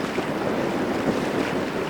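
Steady wind rushing outdoors near open water, a constant broadband roar with gusty swells and faint lapping waves underneath.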